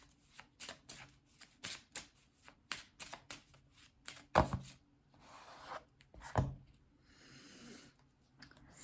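Spanish tarot cards shuffled in quick riffling bursts, a steady run of short dry flutters and slaps close by, with two sharper louder snaps near the middle and a softer rustle at the end.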